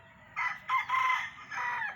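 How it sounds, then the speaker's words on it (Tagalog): A Chinese chicken gives a few short, scratchy clucks and a brief crowing call, fairly close, with a low background hum. "Chinese chicken."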